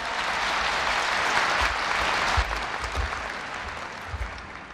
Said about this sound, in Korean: 김태원 상무님을 큰 박수로 맞아주시기 바랍니다.